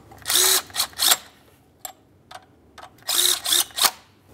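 A cordless power tool snugging the thermostat housing mounting bolts on a 2003-2010 Mercury Grand Marquis: two paired bursts of whirring with short clicks between them, close and loud.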